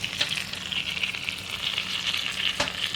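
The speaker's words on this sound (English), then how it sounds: "Sizzling up" Thin steak sizzles in butter in a pan on a wood cookstove, a steady close hiss of frying with small pops and one sharper crackle near the end.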